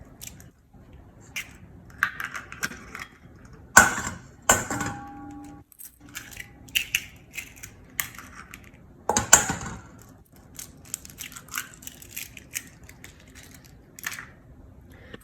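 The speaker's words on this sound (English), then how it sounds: "you want to crack these eggs into the bowl" Eggs are cracked against a bowl for a Sesbania grandiflora flower omelet, with a few sharp cracks and shell snaps scattered among quiet handling sounds and small clinks.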